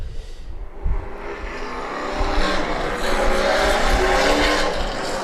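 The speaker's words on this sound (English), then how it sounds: "David Reagan pulling out as" A NASCAR stock car pulls out during a testing session at New Hampshire Motor Speedway, its engine roaring loud and close and building to a sustained high-revving drone.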